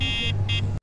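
Alarm horn of a Wing Freedom X e-bike, two short, loud, high-pitched buzzing beeps separated by a brief pause, ending abruptly.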